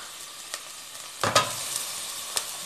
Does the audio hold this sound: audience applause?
no